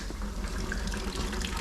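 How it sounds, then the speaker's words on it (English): Water leaks inside a vehicle in a shop, a brief steady splashing trickle heard up close and alone. "We got a little leakage here. Little water leakage"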